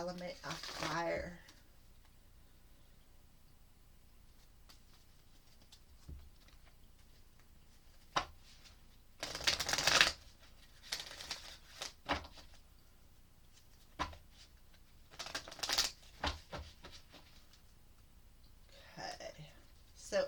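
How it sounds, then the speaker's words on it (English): Decks of oracle cards being shuffled, soft papery riffles and slides coming in short bursts between quiet pauses, close and faint, with occasional whispered speech between them. "So let's go ahead and shuffle each deck up"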